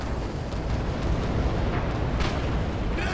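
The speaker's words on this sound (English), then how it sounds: "Ah, grenade!" A grenade bursts in the multiplayer war game Red Orchestra 2, a dense, roaring blast of noise that fills the whole moment at close range, with rumbling debris trailing off and no speech.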